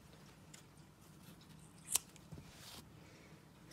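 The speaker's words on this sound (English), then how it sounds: "Chain one, pull tight and cut the yarn." A single quick snip of scissors cutting crochet yarn while finishing a baby Moses basket, faint and close, set against a quiet room.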